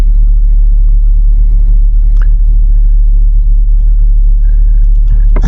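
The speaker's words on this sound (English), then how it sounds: "Alright, let the truck idle till it pulls all the slack out of the rope." A truck idling steadily while taking up the slack in a rope to drag a big log, a loud low engine rumble close by with faint creaks and clicks over it.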